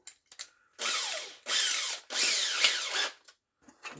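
A 5/8 reamer is run through slightly undersized press-fit holes with a power tool, giving three grinding, whirring bursts of about half a second each, separated by brief pauses and small clicks.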